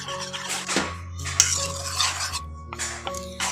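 Cornflour and flour batter for kheersa patishapta stirred in a bowl, a steady scraping and clinking of utensil against the bowl with a low hum beneath, close and moderately loud.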